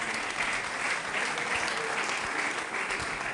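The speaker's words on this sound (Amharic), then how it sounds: "አጨብጭቡ ለጌታ።" A church congregation claps for the Lord at an Ethiopian prophetic service, a dense, steady wash of applause from many hands filling the room throughout, with no one talking over it.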